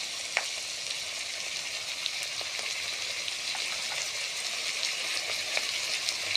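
Chopped ash gourd with asafoetida fries in a pan, a steady close sizzle dotted with small pops and crackles.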